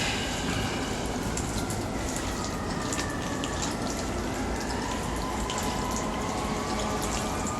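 Liquid plaster poured out in a steady, continuous wash of pouring and trickling, close and moderately loud, with no talk over it.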